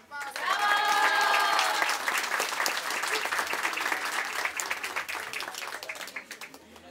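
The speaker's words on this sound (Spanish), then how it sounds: "Un aplauso para él." Audience applause rises quickly at a family gathering in honor of a brother and then fades gradually, with dense clapping and some voices mixed in over about seven seconds.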